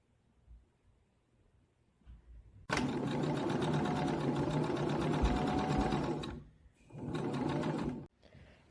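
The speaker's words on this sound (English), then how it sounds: "we're going to sew it so we catch the seam allowance on the inside, like this, along your machine." A sewing machine runs fast and steady while stitching a shoulder seam, then stops briefly and starts again for a shorter burst, close and clear.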